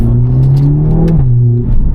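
A Mercedes-AMG A45 S hot hatch engine revving up nearby, its pitch rising then holding in a loud, close growl.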